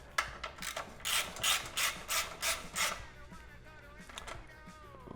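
A ratchet wrench tightens exhaust bolts on a Honda CB200T motorcycle, with a series of rhythmic clicking strokes up close that then give way to quieter mechanical fiddling.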